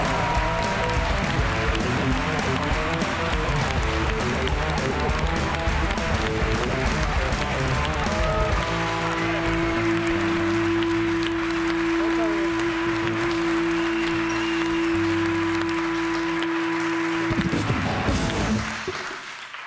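A studio audience applauds and cheers for a guest rapper on a Spanish late-night TV show, a dense, steady wash of clapping that gives way to a sustained musical beat partway through.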